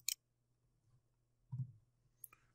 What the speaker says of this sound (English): Let me move over here and double click to open.